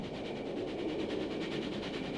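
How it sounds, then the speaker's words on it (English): A train passing in The Origin: Blind Maid, a loud continuous rumbling roar with a rhythmic pulsing clatter throughout. "What's that sound? It's a train, you numbskull."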